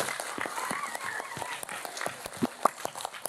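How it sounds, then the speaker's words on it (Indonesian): A crowd claps at a religious talk by a village-head gathering, a brisk scatter of hand claps and sharp slaps filling a few seconds at close range. "Tepuk tangan untuk Jatilawang, keren."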